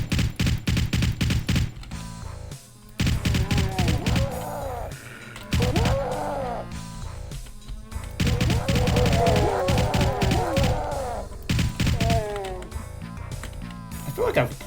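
Sniper gunfire in a Doom WAD built on a Dust 2 map, with repeated sharp shots and impacts in bursts, heavy and close, mixed with game sounds and grunts.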